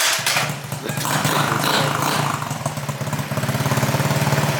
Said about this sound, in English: GY6 150 back to life.